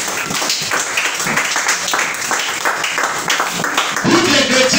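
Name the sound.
congregation applauding Jesus Christ at a church service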